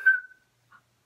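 A person whistles one short, clear steady note that fades out quickly, followed by a faint brief chirp, in a quiet room with no talk.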